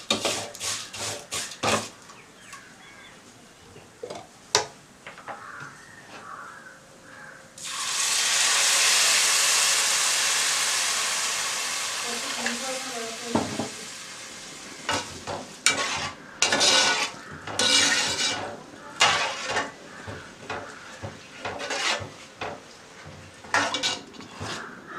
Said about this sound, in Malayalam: നമുക്കിതിലേക്ക് പാലൊഴിച്ച് കൊടുക്കാം.